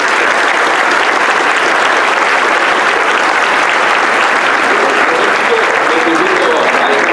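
Sustained, dense applause from a conference audience at the close of a panel discussion on reputational risk, steady and loud for the whole stretch with no break.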